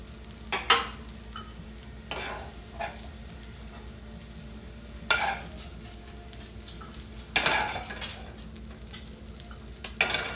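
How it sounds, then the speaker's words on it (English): Food browning in a pan as a spoon stirs it, heard as a steady low sizzle broken by several sharp scraping, clinking stirs at irregular intervals, close and fairly loud. "it's starting to brown up a little bit. So, get my spoon here."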